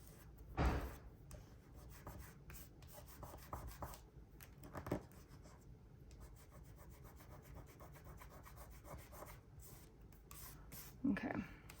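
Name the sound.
rubbing excess glue off a paper journal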